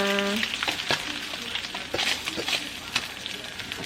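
Spam bacon sizzles and crackles in a pan with just a little oil, a busy close-up fry with popping spatters and scraping stirs over a continuous hiss.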